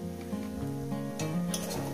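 Onions frying with a little sugar in a pan for a fish curry, a steady close sizzle with a few light stirring scrapes and no voices.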